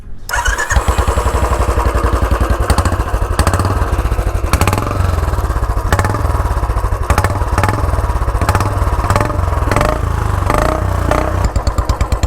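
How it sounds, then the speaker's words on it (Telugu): Royal Enfield Classic 350 in Ember Orange idling close by, its exhaust thumping in a steady, even rhythm with a few throttle blips, loud and without talk. "సో మీకు ఇప్పుడు ఒకసారి ఈ ఎగ్జాస్ట్ నోట్ అనేది వినిపిస్తాను."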